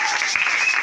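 A church congregation at Grâce Divine Tabernacle bursts into brisk, close applause for Jesus Christ, a short burst of many hands clapping at once.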